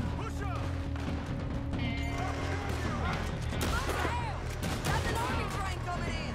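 Gunshots and crashes crackle through a chaotic Red Dead Redemption 2 fight, sharp bursts mixed with busy clatter while people talk over the action.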